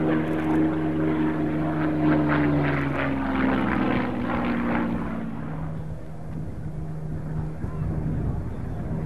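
Historic Hellenic Air Force propeller airplane flying past, its droning engine loud and steady at first, then fading into the distance as a softer rumble.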